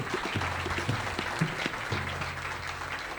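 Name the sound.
congregation applauding loudly at church service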